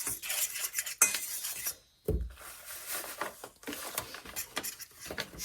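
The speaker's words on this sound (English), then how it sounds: "So I'm going to start putting that in real slow and mixing it up." Pumpkin cookie mix from a Pillsbury box being stirred into a soft dough in a bowl, with quick scraping and clinking of a utensil against the bowl, briefly pausing then resuming.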